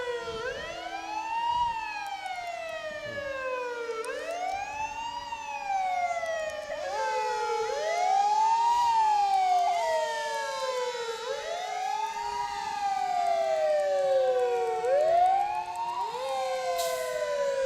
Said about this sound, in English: Can always hear the fire trucks coming.